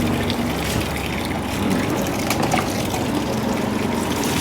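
Pet birds bathed with a water spray, heard as a continuous, loud, close hiss of spraying water that holds steady throughout with no pauses.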